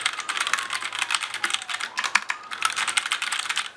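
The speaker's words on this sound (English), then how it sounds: "So let me just type on this." Rapid, continuous keystrokes on a tactile-switch mechanical gaming keyboard sold as a quiet everyday board, clattering close and crisp with a brief lull midway and no voices.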